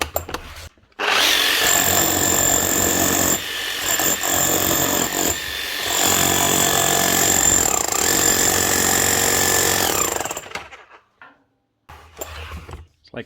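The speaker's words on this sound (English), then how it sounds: "Make sure the hammer works." A repaired Makita HR4011 rotary hammer, fitted with a new motor, armature, field and brushes, runs loud and close for about nine seconds with a harsh rattling hammer action. It pauses briefly twice, then stops, followed by a couple of short bursts.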